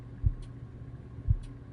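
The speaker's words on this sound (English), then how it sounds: "I haven't had a heartbeat in so long. But now, I can sense it again." A slow heartbeat sound effect thumps twice, each a soft low double pulse about a second apart, under a faint steady hum in an otherwise quiet creepy whispering setting.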